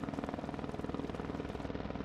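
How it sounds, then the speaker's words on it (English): A helicopter's rotor thumps in a fast, even rhythm, a steady pulsing drone with no voices. "The helicopter now flies over the fire."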